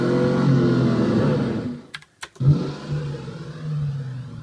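A Mustang pinball machine plays its synthesized engine revving effect: a steady loud motor drone, a short break with sharp clicks, then the rev resumes and settles back to a sustained hum.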